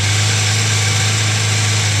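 A Suzuki Katana 600 motorcycle engine idles after a cold start, a steady low droning rumble close by with no talk, holding an even pitch and level throughout.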